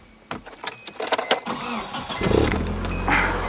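A Nissan 240SX with a repaired exhaust leak cranks with a few quick clattering turns, then catches and settles into a low, steady exhaust rumble close by.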